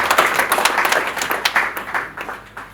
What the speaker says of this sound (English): I think the duo deserve a bigger round of applause